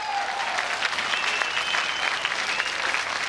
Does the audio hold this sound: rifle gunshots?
no